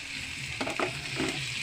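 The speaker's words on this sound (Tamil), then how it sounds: "இது கொஞ்சம் நேரம் அப்படியே வதக்கிக்கலாம்" A large finely chopped tomato sizzles and sputters in a hot pan, with a few brief stirring scrapes breaking through the steady frying hiss.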